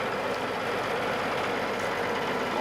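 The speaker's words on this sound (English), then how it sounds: "tractor and Great Plains TC5317 turbo chisel are working up ground" A 525 hp Challenger MT865C tractor pulling a Great Plains TC5317 turbo chisel through field ground, its engine a steady, loud, broadband roar with a deep low rumble, continuous and unchanging throughout with no talk.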